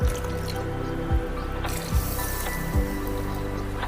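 Water is poured into a wok to start a sugar syrup, producing close wet splashes and drips with a few distinct sloshing bursts over a continuous liquid trickle.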